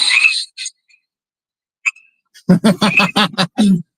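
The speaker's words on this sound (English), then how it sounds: "that's a frog instead of crickets." A frog calls outdoors in Sydney with a few brief, high chirps and then a quick, close series of loud croaking pulses.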